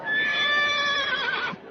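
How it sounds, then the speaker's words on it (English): A horse lets out a single loud, close whinny lasting over a second, a shrill wavering neigh that fades out near the end, with no other sound around it. "Listen, he's giving you the horse laugh now."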